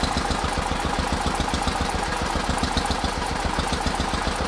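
An old stationary engine at a historical village runs on an adjusted fuel mixture, thumping in a fast, even, loud rhythmic beat up close with a rattling mechanical clatter throughout.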